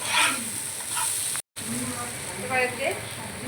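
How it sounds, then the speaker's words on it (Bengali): Mung dal mixture fries in a pan for paratha, a steady bright sizzle with a brief dropout midway, while a person speaks nearby. "এবার এটাকে একটু সময় নিয়ে ভেজে নিতে হবে।"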